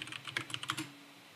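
Quick, light clatter of typing on a computer keyboard, a dozen or so close key taps in an uneven burst, faint and alone without speech.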